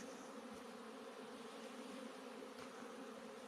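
Bees fly around outdoors on a mild winter day, making a faint, continuous buzzing drone from a swarm at moderate distance, with no voices.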